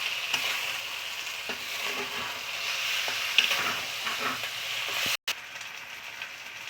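Food stirred in a pan after adding sugar while cooking thor muri ghonto, a gentle continuous sizzle with soft scraping strokes and a few light clicks, briefly cut out near the end.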